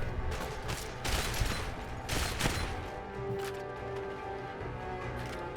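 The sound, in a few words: pistol gunfire in Fallout video game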